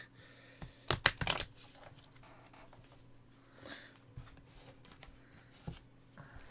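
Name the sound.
shuffling and cutting a tarot card deck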